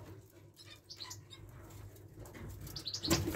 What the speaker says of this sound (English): I've got some new red mosaic canaries in here.